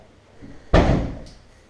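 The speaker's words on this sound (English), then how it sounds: "if I shut the dining room door as well" An interior dining room door in a show home is shut with a single firm, close thud that fades quickly, preceded by a faint shuffle.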